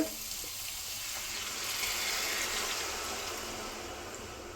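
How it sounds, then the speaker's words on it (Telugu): Boiled tamarind extract pours into a fish curry of ramala fish, making a close, steady, watery gush that swells slightly and then eases off. "ఇప్పుడు చింతకాయతో తీసి చింతకాయ ఉడకపెట్టి దాంట్లోంచి తీసిన రసం అయితే వేద్దామండి"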